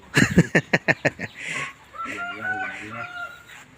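A rooster lets out a quick run of loud, sharp clucks, then a drawn-out crow that wavers for nearly two seconds, close by and alone.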